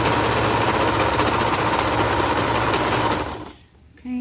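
A sewing machine runs fast and continuously, stitching the second seam of a pair of slim joggers, its dense mechanical whirr close and steady before stopping abruptly near the end.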